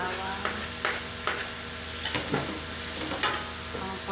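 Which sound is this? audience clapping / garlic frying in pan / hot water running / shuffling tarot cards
garlic frying in pan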